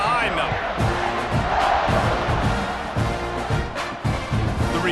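A packed college football stadium crowd roars and cheers steadily just before kickoff in a Utah State versus Texas A&M game, dense and loud throughout, with a commentator talking over it.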